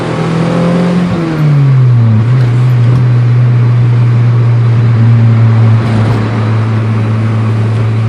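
A Honda B-series VTEC-engined car on a road pass, engine droning loudly and steadily close by, pitch falling through a gear change before holding a sustained cruise tone.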